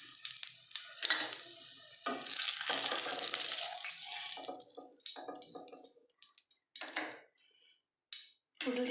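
Fish fries in a pan, a loud hissing sizzle that swells early and then breaks into short spitting bursts with pauses between them.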